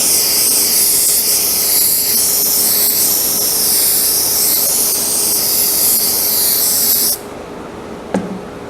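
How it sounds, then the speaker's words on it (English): An aerosol can of spray adhesive hisses steadily and loudly while coating cork board sheets, a continuous close spray running for about seven seconds before cutting off abruptly, followed by a brief clunk. "Now I've sprayed the whole thing with that spray adhesive"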